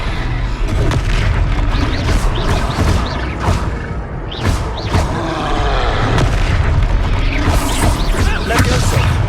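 Levioso spells cast repeatedly in the Hogwarts Legacy video game, a loud, busy run of magical bursts, booms and crashing impacts that follow one after another over steady combat noise.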